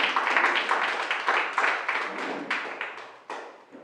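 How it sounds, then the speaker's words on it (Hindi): An audience at a poetry recital gives a round of applause, many hands clapping in a brisk burst that gradually thins and fades toward the end. "तो एक बार फ़ख्र हिंदुस्तान के लिए ज़ोरदार तालियाँ बजाएंगे"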